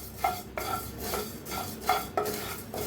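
A spoon scrapes and stirs whole spices dry-roasting in a pan for homemade garam masala, giving soft rhythmic scratches and light metallic clinks every half second or so, close and quiet with no talk.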